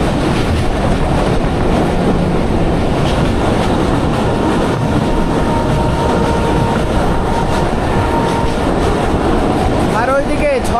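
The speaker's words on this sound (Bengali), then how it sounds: "ওইদিকে 6500 সিরিজের লোকোমোটিভের দুর্দান্ত হুইসেল দিয়ে এগিয়ে যাচ্ছে আমাদের শাটল ট্রেন" A shuttle train hauled by a 6500 series locomotive rolls past at Godagari Ghat station in Rajshahi, a continuous loud rumble of wheels and cars, with a whistle that is hard to pick out clearly.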